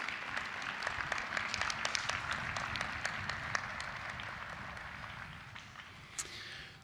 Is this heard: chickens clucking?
no